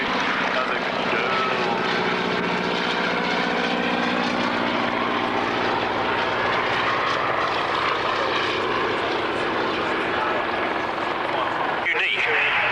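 Propeller aircraft engines droning loudly and continuously at an airshow while wing walkers stand on the plane's wing, with a commentator talking over the steady engine roar throughout.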